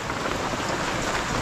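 Steady afternoon rain pours down near a smoking volcano, a dense, constant hiss of drops on surfaces, fairly close and uninterrupted, with no one talking.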